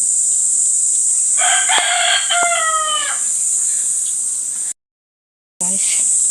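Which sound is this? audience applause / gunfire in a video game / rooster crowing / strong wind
rooster crowing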